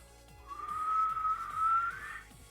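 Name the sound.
person attempting to whistle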